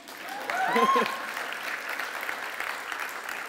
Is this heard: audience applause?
yes